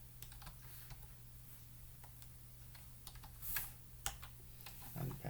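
Keys tapping on a computer keyboard while entering a git username and password, a steady run of light clicks over a constant low hum, with a few louder key strikes near the end.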